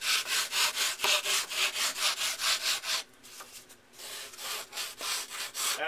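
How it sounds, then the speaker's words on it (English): Wood is sanded by hand with steady back-and-forth strokes, a loud rhythmic rasping close up, broken by a short pause before the regular strokes resume. "As I sand, I'm going to start."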